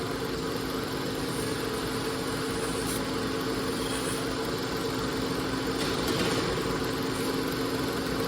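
An old American-made machine deburring belt parts runs with a steady, even mechanical hum and rumble, like an idling motor, with a few small rises in intensity and no speech.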